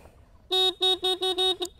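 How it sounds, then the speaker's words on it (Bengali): Hero Splendor+ motorcycle horn, still working after 25,000 km, sounds six loud close honks in quick succession, each a short buzzy tone. "দাঁড়ান আপনাদের একটু হর্ন দেখাই।"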